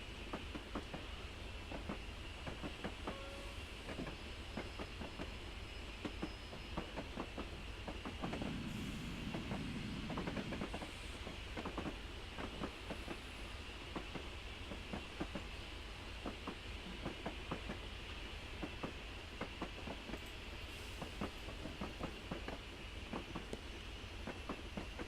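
An LMS Black 5 steam locomotive hauling a train on the Hamilton branch line, easing off gently for a stop: a steady loud rumble with rhythmic wheel clatter throughout, heard from aboard, no talk.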